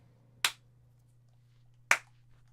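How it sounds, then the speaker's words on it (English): Two sharp hand claps, spaced about a second and a half apart, sound close by over a steady low air-conditioner hum in a quiet room. "Okay, so I got to clap."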